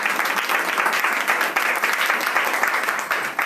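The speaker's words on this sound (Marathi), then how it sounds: "प्रत्येक जण त्याच्यासाठी आपण टाळ्या वाजवू." Church congregation claps together in a dense, steady burst of applause, loud and close with no voices over it, lasting a few seconds.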